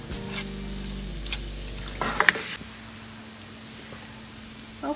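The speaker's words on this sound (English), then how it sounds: "Saute for about 3 to 5 minutes on low heat" Onions sauté on low heat in a pan, a soft steady frying hiss with a brief clatter of stirring partway through.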